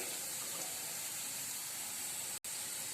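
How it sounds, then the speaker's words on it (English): Water poured into a hot pot on high flame while cooking vegetable stir pot rice, a steady close hissing rush with a brief break near the end. "So as I am adding the water here"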